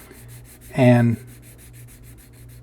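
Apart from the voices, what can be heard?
wet sanding a plastic model kit part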